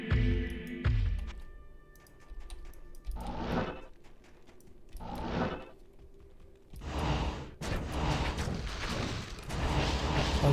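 Corpse explosion skill in a video game, a series of heavy booming blasts, several spaced bursts followed by a dense rumbling stretch of overlapping explosions, loud and close with no talk.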